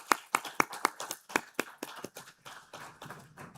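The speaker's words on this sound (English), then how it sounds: "Can we give them a huge round of applause?" Applause from an audience for panelists at an Insurance Association of Pakistan event: a smattering of sharp, distinct hand claps, several loud and close, thinning into softer scattered clapping toward the end, with no talk.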